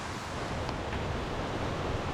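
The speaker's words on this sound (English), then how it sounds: "This is a seasonal creek and it is just absolutely ripping." Seasonal creek swollen after heavy rain, rushing at full force: a loud, steady broadband roar of turbulent water close by, with no voices.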